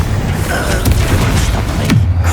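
Confringo blast in the video game Hogwarts Legacy, a loud, booming explosion thumping over dense, continuous combat noise, with a second low impact near the end.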